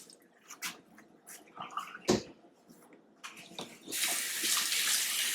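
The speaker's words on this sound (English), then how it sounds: "just rinse out the blender to get all any extra pulp off there." Faucet water rinses pulp out of a blender, starting with a few scattered knocks and splashes before the tap runs as a steady hiss for the last second and a half.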